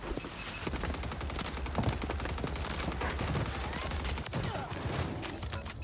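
Rapid, dense gunfire in the Warzone battle royale game, a steady crackle of shots with a sharp crack near the end, no talk.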